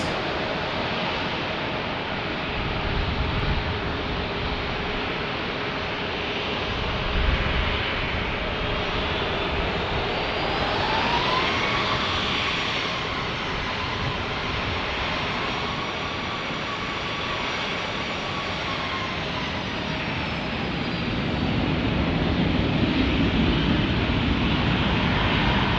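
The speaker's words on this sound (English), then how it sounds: "Departures going here. We got United Airlines. Looks like a 737-900." United Airlines Boeing 737-900 departing San Diego airport, a steady broadband jet roar that swells and holds throughout with a faint rising whine, loud and continuous with no talk.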